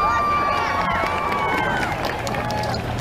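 A large outdoor crowd at a women's march rally in a Seattle park cheers and whoops loudly, a dense, sustained roar with high individual shouts and voices mixed in.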